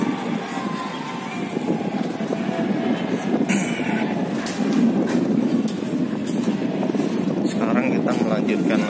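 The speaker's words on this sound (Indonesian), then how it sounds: "di sini ada stasiun kereta, stasiun LRT Velodrome" A light rail train at the LRT Velodrome station in Jakarta passes with a steady mechanical rumble and hiss, mixed with wind noise and outdoor background sound, while a person talks over it.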